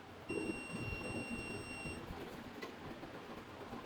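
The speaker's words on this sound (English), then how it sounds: "Continuity testing is also responsive with an audible buzzer." A thin, high electronic tone from the continuity buzzer of a FNIRSI TDM-120P thermal multimeter sounds once for under two seconds over faint background hiss.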